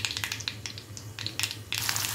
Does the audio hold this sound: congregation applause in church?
no